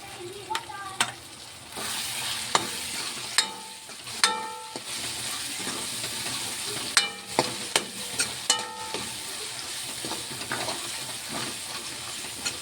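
Black masala stirred and frying in a pan, a steady sizzle with repeated sharp scraping and clinking of a spoon against the pan, close and moderately loud, no talking.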